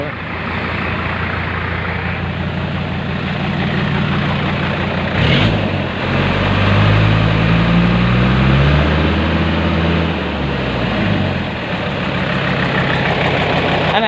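A pickup truck engine idles loudly and steadily, then revs up briefly midway, with a rough tapping rattle running underneath and voices talking over it.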